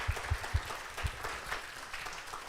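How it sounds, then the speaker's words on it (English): Applause for the competing teams at the IDBM Challenge 2022 event, a thin, modest round of clapping with a few low thumps, moderately distant and fairly quiet, no talk over it. "let's have a big round of applause to all of the teams from the second"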